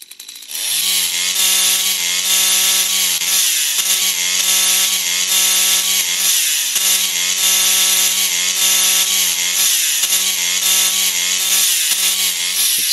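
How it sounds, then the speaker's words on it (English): A chainsaw cutting logs in a video game drones loudly and continuously with a buzzing synthetic engine tone, its pitch dipping in a regular rhythm every few seconds as each cut is made. "Hit start to fire up your chainsaw."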